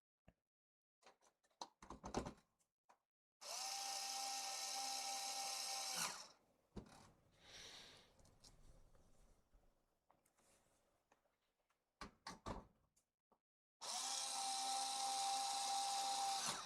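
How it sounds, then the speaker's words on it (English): Electric screwdriver driving screws into a Sega Master System console during final assembly, in two sustained whirring bursts separated by soft handling clicks and rattles, with no talking. "So let me start getting some screws in"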